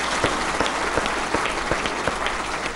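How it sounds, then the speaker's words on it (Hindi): Loud, steady applause from an audience at a Hindi poetry gathering (kavi sammelan), dense claps with a few sharper accents, continuing evenly throughout without voices. "एक बार जोरदार तालियां"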